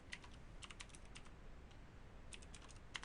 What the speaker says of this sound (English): Whoops, I got to type it correctly.